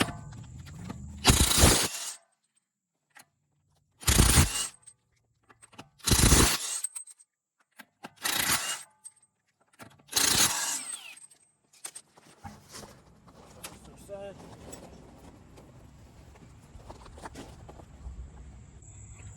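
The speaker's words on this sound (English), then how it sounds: "Alright, so I'm gonna take out the wheel." Wheel coming off a Nissan with 21 mm lug nuts, five loud bursts of an impact wrench spaced a couple of seconds apart, close by, then quieter rustling and handling noise.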